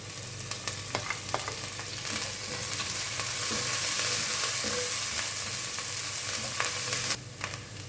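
Ginger, green chili and curry leaves sauté in hot oil with mustard seeds in a pan, giving a steady close sizzle with occasional spatula scrapes and clicks; no one speaks.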